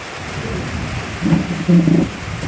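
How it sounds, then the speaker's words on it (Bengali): Thunder from close lightning strikes during rain at Konglak in Sajek: two low rumbling bursts rise over the steady rain hiss, one short and one longer, close and fairly loud. "বজ্রপাত খুব কাছাকাছি চলে আসছে আমাদের কাছে, দুইটা বজ্রপাত কাছাকাছি ছিল।"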